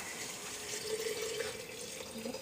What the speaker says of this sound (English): now, hopefully without too much mess, I'll pour it in here